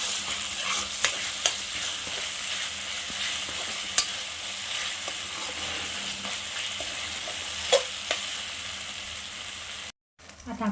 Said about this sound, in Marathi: आता आपण त्यामध्ये आलं लसूणची पेस्ट टाकून घेऊया आणि तीसुद्धा आपण चांगली फ्राय करून घेऊया तेलामध्ये.